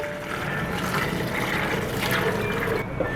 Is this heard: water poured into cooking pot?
yes